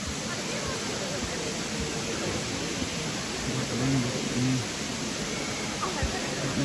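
Steady broadband roar of the waterfall at Edith Falls, a constant rushing wash of falling water heard from nearby, with faint brief tones over it and no talking.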